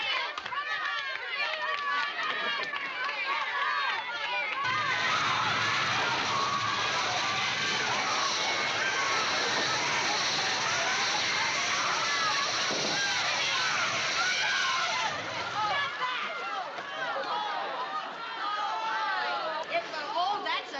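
Strong water spray from a fire hose in a sitcom bank fire scene, a loud sustained hiss-and-splash running about ten seconds amid commotion, with people talking and exclaiming over it.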